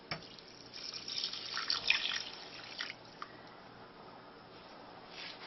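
Water runs and splashes into a pot of 1½ cups of rice. The pour is soft and trickling, swells briefly, then tapers into faint drips, close by with no talk.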